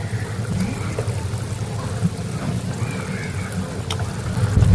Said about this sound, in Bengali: দেখুন গ্রেভিটা আমার লো ফ্লেম করা ছিল, গ্রেভিটা আস্তে আস্তে ফুটে উঠেছে।